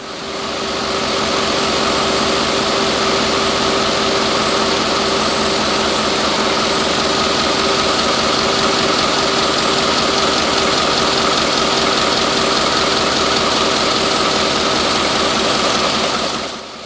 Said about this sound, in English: This is the heart of the vessel, the machine room. Here is where the 4 main engines roar.